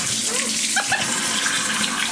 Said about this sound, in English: We're gonna get the water temperature just perfect there, Boo.